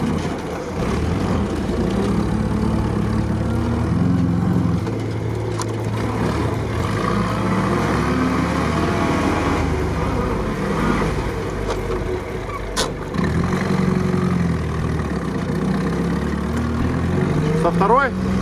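An old Jeep Willys engine runs steadily and close, a constant rough drone throughout while people talk over it.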